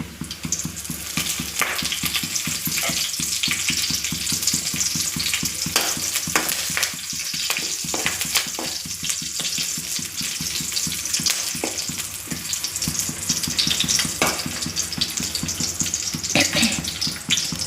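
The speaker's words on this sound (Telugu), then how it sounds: "దాండి పెట్టి ఆయిల్ వేసి ఉల్లిపాయ ముక్కలు పోపు దినుసులు అవన్నీ వేసి వేయిస్తున్నానండి" Onion pieces and tempering spices with curry leaves fry in hot oil in a pan, giving a loud, continuous close-up sizzle with occasional crackles and stirring clatter throughout.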